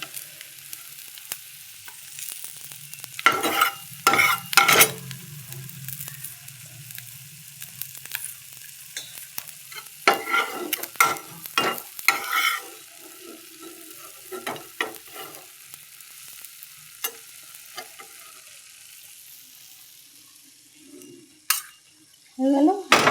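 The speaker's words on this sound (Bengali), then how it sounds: "মানে ছোটো মাছ অল্প তেলে ভাজাই ভালো হয়।" Small chela fish frying in a little oil in a pan for a chorchori, with soft sizzling broken by sharp stirring scrapes and utensil clatter that come in irregular bursts, close by.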